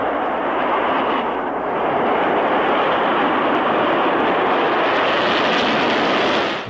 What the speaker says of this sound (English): All cameras rolled as they heard liftoff from Vandenberg over their radio.